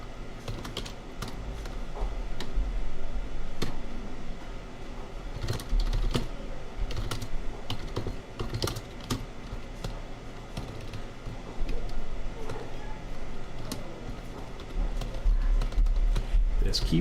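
Rapid, irregular clatter of computer keyboard keys being typed on at a PC desk, close and continuous, with someone talking over parts of it.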